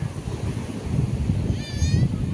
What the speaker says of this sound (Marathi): इथं दगड आहे ना त्याच्यावर आपटते पाणी